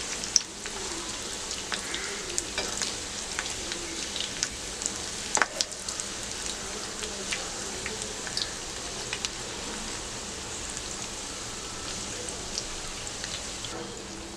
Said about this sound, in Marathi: स्लो ते मीडियम गॅसवर आपण हे फ्राय करून घेऊया।